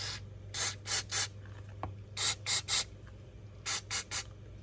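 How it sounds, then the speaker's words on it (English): Mass airflow sensor cleaner sprays from an aerosol can onto the sensor of a Toyota FJ in about ten quick, soft squirts, grouped in clusters of three or four with short pauses between, over a quiet background hum. "we're gonna take our mass airflow cleaner here. Can do that. And we're just gonna give it a couple of quick squirts"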